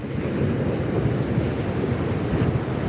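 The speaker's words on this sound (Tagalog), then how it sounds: "talagang sobrang lakas po ng alon" Strong storm surge waves crash near a bridge on Tagas Boulevard in Bicol, a dense continuous roar of surf with heavy wind noise on the microphone, close and loud throughout.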